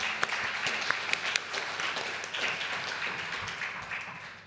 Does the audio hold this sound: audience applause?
yes